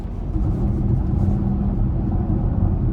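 Low steady road rumble from 21-inch wheels on a 2018 BMW X3 M40i with a turbocharged 3.0 inline six, a constant droning hum heard inside the cabin while driving, moderately loud and without talk.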